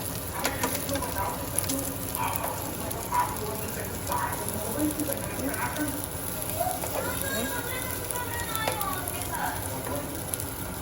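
Kingfish cutlets fry golden brown in a pan with a constant crackling sizzle and scattered spitting pops, while a person talks over the cooking noise.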